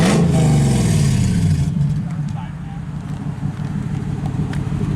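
A 4th-generation Toyota 4Runner V8 with an exhaust cutout revs sharply at close range, the loud rising roar dropping back toward idle after about a second and a half and continuing as a low rumble while people talk over it.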